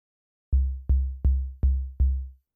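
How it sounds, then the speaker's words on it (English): Five steady kick drum hits from a Bastl Pizza Crust drum synth module without pitch sweep, a flat deep boom on each beat with short decaying tails, evenly spaced and heard alone. "Here's a kick with no sweep."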